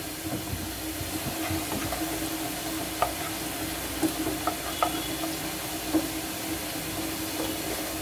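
Onions sizzle and fry in a pan as they turn brown, a steady, fairly quiet hiss with a few light clicks of stirring.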